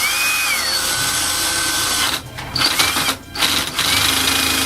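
Power drill driving a screw tight into a computer case during a PC build, a high whirring motor with pitch changes and short stuttering bursts as the screw bottoms out, loud and close.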